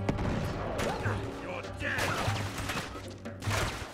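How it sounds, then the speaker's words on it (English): Gunshots in the video game Uncharted 3: Drake's Deception snap out in scattered single cracks and short bursts over busy game ambience, moderately loud, with a voice talking faintly underneath. "Who is shooting at me?"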